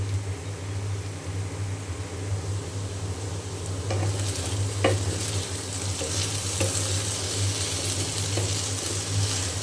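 Potatoes frying in a pan for aloo bhaji, stirred repeatedly; a continuous close sizzle runs throughout, with scraping stir strokes growing busier in the second half over a low steady hum.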